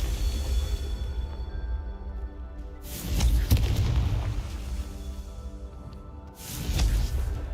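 A Confringo spell blast goes off in the Hogwarts Legacy video game. Two loud, booming explosions with broad rumbling bursts land about three seconds apart, and a low background hum carries between them.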